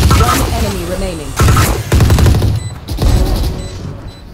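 Rapid bursts of gunfire in an online multiplayer shooter, loud and repeated in clusters, with people talking over the shots.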